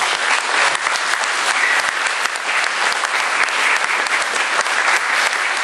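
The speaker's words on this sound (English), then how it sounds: "So I'd like to give her a round of applause." Sustained, steady applause from a banquet audience at a soccer awards banquet, a dense wash of many hands clapping at constant loudness for several seconds with no talk over it.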